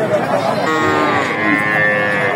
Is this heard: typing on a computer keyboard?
no